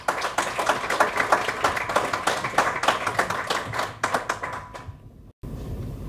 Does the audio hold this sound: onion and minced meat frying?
no